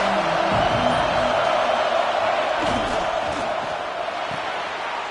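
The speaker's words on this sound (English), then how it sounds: "This crowd bringing an ear-splitting welcome to their visitors." A college football stadium crowd roars loudly, a dense sustained wall of cheering that stays near and steady and eases slightly toward the end, with a voice briefly audible beneath it.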